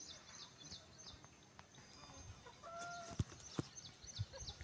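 Village chickens of a native breed cluck in scattered bursts, fairly faint and mid-distance, with a few sharp knocks and rustles over a low background hum.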